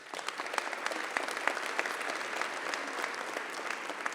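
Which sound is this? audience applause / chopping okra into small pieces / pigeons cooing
audience applause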